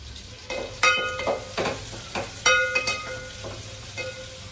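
Onions deep frying in oil for a mushroom dish, a close crackling sizzle punctuated by several sharp spatula scrapes and knocks against the pan, no voices.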